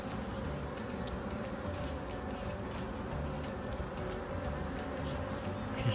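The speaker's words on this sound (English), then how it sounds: "There's a bee making her way out in the world." A honeybee buzzes as it emerges from its cell in a hive, a continuous low drone held close and steady, with faint higher insect hum around it and no talking.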